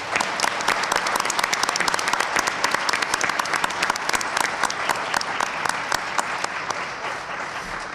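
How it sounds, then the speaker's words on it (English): At the close of a Keene mayoral debate the audience applauds both candidates, a full, close round of crisp hand claps that stays loud and steady for the whole stretch. "I'd like to give a round of applause to both candidates from everybody"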